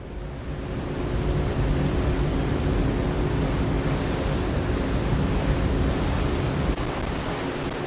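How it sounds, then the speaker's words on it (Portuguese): Wind blows steadily across a Caribbean beach, a loud, continuous broadband rush with surf-like hiss that holds throughout, with no voices. "Tô muito feliz que dá pra fazer vlogs com vento"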